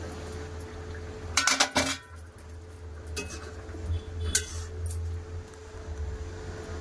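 A lid lifted off a metal cooking pot of potato and prawn curry, giving a close, brief clatter and clink of metal followed by quieter kitchen knocks over a low steady hum.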